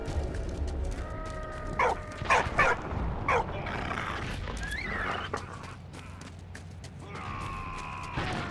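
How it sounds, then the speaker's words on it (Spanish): A dog in the World War I video game Valiant Hearts barks and yips in short close bursts over a low rumbling game soundscape, with a few whimpering, whining sounds later on. "El perro."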